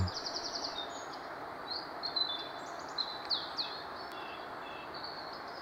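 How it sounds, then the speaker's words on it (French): Blackbirds nesting in honeysuckle sing in the distance, a faint string of fluting and chirping phrases heard over a steady outdoor hiss, with no voices. "Des merles ont construit leur nid dans le chèvrefeuille."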